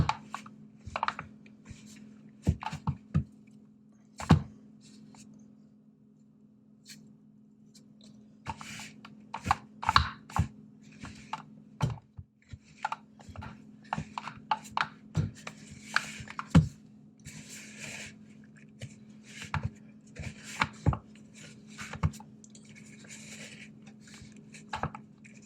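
Flour and dry ingredients being stirred for sourdough bread dough, heard as a run of scraping, knocking and rubbing strokes against a bowl, irregular and close, with a steady low hum underneath and no talking.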